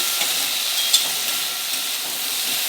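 Ivy gourd (kundri) fries in oil with salt, a continuous soft hiss and sizzle, close and fairly even, with a few faint crackles.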